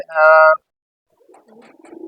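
A pigeon coos loudly and close by in a pigeon loft, one sustained rolling call in the first half-second, followed after a pause by softer, scattered murmuring and rustling.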